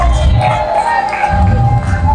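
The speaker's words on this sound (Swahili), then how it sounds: "Makofi kwa Bwana Yesu." A church congregation applauds for Jesus, a loud, close wash of clapping and crowd noise with raised voices mixed in, sustained throughout.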